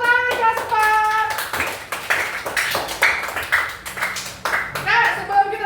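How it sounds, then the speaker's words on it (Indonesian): Students in a primary-school Christian religious education class clap their hands in a quick patterned rhythm of sharp bursts, with young voices chanting along between the claps. "Tepuk tangan Aspat."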